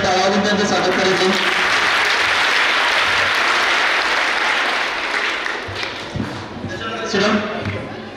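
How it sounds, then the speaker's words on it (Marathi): Applause breaks out for the first-placed group at a school quiz and all-round student competition, a dense wash of many hands clapping that fills the room, then thins near the end as a voice speaks over it. "सर्वांनी टाळ्या वाजवून त्यांचं स्वागत करायचे"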